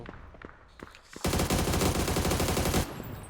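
Rapid automatic gunfire in the battle royale game PUBG on the Erangel map, a dense sustained burst lasting over a second, loud and close, preceded by a few scattered single shots.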